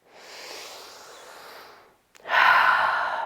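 Slow breaths during a guided upper-body fascial release: a long soft exhale, a brief pause, then a sharper, louder inhale or sniff, close to the microphone and alone.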